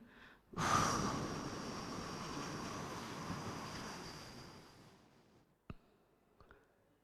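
A single long, audible breath fills most of the moment during a guided breathing exercise, starting suddenly and slowly fading, followed by a couple of faint soft taps and quiet.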